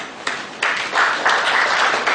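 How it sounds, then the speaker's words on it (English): Applause from an audience, a dense steady patter of many hands clapping that swells after a brief start and continues without talk. "Thank you with a round of applause."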